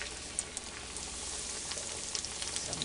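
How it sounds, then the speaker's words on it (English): Thick pieces of food fry in hot grease, giving a faint, steady crackling sizzle with small pops scattered throughout and no voices. "Now what I'm going to do is I'm going to fry the bigger pieces first"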